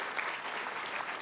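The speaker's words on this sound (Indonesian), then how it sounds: "Tepuk tangan untuk pencapaian ini." Audience applause after a university rector's speech at an opening ceremony: a steady, dense wash of many hands clapping together, fairly quiet and even throughout with no voices over it.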